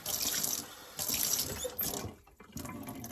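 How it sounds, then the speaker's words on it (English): Running water from a tap pours into a glass for rooting Thanksgiving cactus cuttings, coming in a few short bursts with brief pauses; close and steady. "You just put a tiny, tiny bit of water in the glass, about like that"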